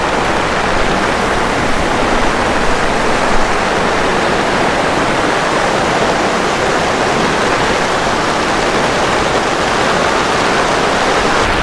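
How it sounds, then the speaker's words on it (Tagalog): A steady, loud roar of typhoon wind at Signal No. 3 strength, a dense broadband rush that never lets up, like a storm blowing hard close by. "Lakas na ng hangin."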